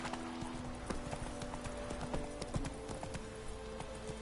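Roach, Geralt's horse in the video game The Witcher 3: Wild Hunt, gallops with steady, rhythmic hoof clip-clops over a continuous background drone, fairly quiet throughout.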